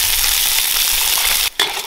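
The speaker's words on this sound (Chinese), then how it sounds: "把五花肉倒进来煸炒一下" Pork belly sizzles loudly as it is stir-fried in a hot oiled wok, a dense steady hiss of frying that drops out briefly near the end and then resumes.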